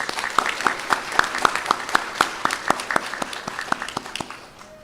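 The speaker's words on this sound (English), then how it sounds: "Let's give them a nice round of applause." An audience at a practical nursing ceremony applauds, a steady patter of many hands clapping that gradually tapers off toward the end.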